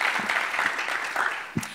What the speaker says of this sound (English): I think we all need to give a great round of applause to Mike Hawley and the EG team